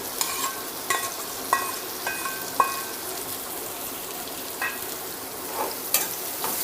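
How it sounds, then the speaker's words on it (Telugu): Chopped onion pieces frying in hot oil for an aloo kurma, a continuous close sizzle broken by several sharp scraping stirs of a spatula against the pan, with no talking. "ఉల్లిపాయ ముక్కలు కూడా వేసుకొని ఈ ఉల్లిపాయ ముక్కలు కొంచెం కలర్ మారేదాకా వేయించుకోవాలి"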